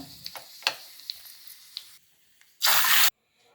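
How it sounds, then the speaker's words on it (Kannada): Light crackles and pops from mustard seeds in oil, then a short loud burst of sizzling as something hits the hot pan, followed by quiet. "ಈಗ ಅದಕ್ಕೆ ಒಗ್ಗರಣೆ ಹಾಕೊಳ್ಳೋಣ."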